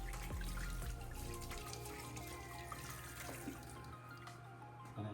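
Water runs steadily from a tap while ice maker parts are rinsed, a soft continuous splash with faint clinks and a low background hum.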